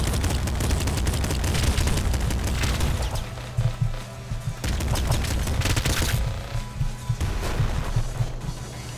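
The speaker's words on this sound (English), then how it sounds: "I'm fine with the machine gun for now." Machine gun firing in the video game Nuclear Throne: dense, continuous rapid gunfire bursts with booming impacts, loud and close, broken by brief pauses between volleys.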